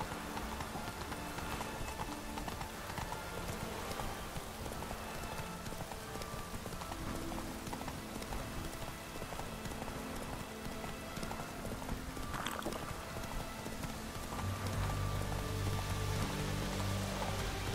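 Roach the horse gallops in The Witcher 3, her hooves drumming in a fast, steady clip-clop rhythm over continuous game music.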